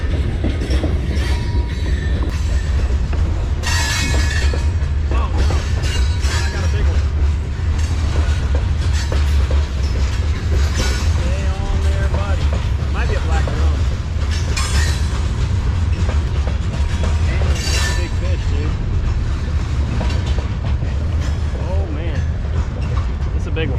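A train rolls past on railway tracks beside a fishing bridge, a loud continuous rumble with clattering wheels and occasional metallic squeals, while people talk over the noise.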